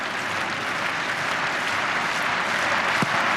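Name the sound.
football crowd cheering on Paraguay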